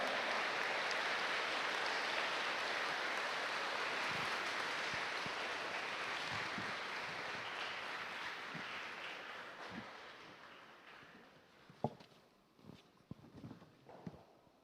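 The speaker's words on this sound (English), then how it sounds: "Ladies and gentlemen, please give a big round of applause to our service members who have" An audience at a middle school Veterans Day ceremony applauds service members, a broad sustained clapping that slowly fades, followed by scattered footsteps and light knocks.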